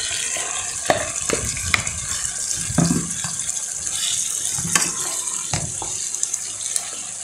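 Water pours and sizzles into a hot cooking pan while pansit bihon is being cooked; irregular splashes and clatters sound over a steady bright hiss from the pan, close by.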